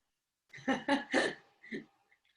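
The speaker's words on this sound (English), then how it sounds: "Excuse me. Cough. I've made a cough." A short burst of four quick coughs, close and fairly soft, the last one weaker after a brief pause.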